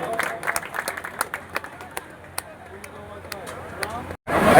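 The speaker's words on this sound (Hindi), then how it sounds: "एक बार जोरदार ठपरी, जोरदार ताली" Applause from a crowd at a collective sacred thread ceremony in a village camp: scattered, irregular claps rise above general murmur and talk for several seconds before a brief gap and a louder burst of noise.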